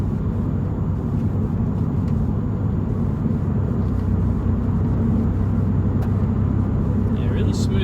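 A 2003 Mitsubishi Eclipse is driven on a wet road. Constant engine rumble and road noise fill the cabin at a steady, fairly loud level throughout.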